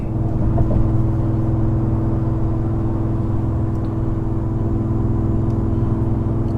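Inside the cab of a 2021 Ford F-150 towing a camper across a bridge, a constant low engine hum and road drone with a steady tonal whine, loud and unbroken.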